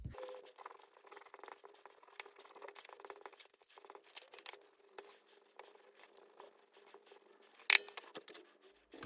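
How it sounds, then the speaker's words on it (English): Eraser rubbing away pencil marks on an MDF Christmas bauble, faint close scratchy brushing strokes in irregular bursts with one sharper tap near the end, quiet and without talk. "I'm then going to spend a little bit of time rubbing away these pencil marks."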